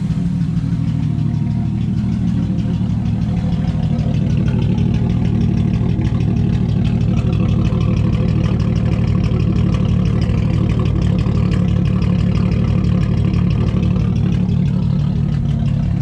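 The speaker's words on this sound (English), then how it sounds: "Did you hear the idle?" A Lexus IS300 engine idles steadily with a low, even rumble, close and continuous throughout, with no voices over it.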